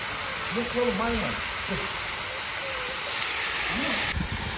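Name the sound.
meat frying in a kazan over a campfire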